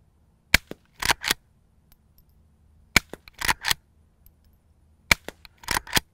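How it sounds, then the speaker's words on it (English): A suppressed Henry Frontier threaded rimfire lever-action rifle fires three times at spaced intervals. Each quiet crack is followed by the louder smack of the bullet hitting the dirt berm and then the clack of the lever cycling. "the sound of it hitting the berm is louder than the gunshot."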